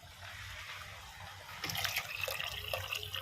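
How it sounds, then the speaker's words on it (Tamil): Tamarind water is poured into a simmering stingray fish curry, a soft liquid splash and trickle that starts partway through over a low background hum. "இப்போது நம்ம வந்து புளி தண்ணியை ஊற்றிக்கலாம்"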